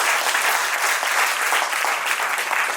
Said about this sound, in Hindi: आपके सम्मान में एक बार जोरदार तालियां बजनी चाहिए